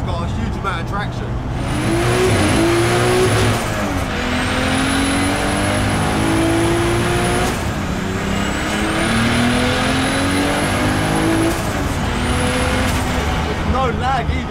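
A BMW E46 M3 with a swapped Toyota 2JZ engine pulls hard under acceleration, its pitch rising through the gears with a steady loud roar, voices talking over it inside the cabin.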